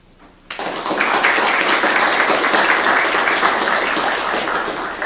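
An audience bursts into sustained, loud applause welcoming a professor to the stage, the clapping starting abruptly after a brief quiet moment and holding steady throughout.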